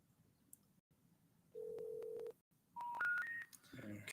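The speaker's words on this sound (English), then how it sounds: "Yeah, you're making phone calls," Telephone keypad tones sound during a business phone call, a short held beep followed by a quick rising run of distinct DTMF tones, clear and close, then faint voices murmuring underneath.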